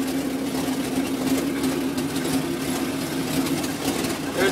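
An old COE (cab-over-engine) truck engine idles steadily on its own, with a continuous low drone and a faint mechanical whine that hold at an even level throughout, with no voices over it.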